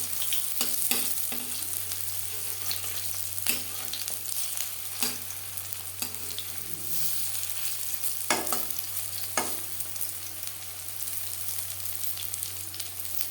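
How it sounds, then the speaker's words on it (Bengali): Mustard flower fritters fry in hot oil in a pan with a continuous close bubbling sizzle, punctuated every second or two by sharp spatula taps and scrapes as they are turned. No one speaks. "ভাজা হয়ে গেলে অপর পাশ উল্টে দেবো"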